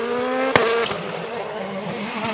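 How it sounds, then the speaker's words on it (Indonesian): Toy race car giving off a close engine whine with a sharp tire-squeal burst near the start, then a lower steady motor hum continuing to the end. "Mobil balapan."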